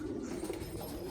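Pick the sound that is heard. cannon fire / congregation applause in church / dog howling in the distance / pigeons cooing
pigeons cooing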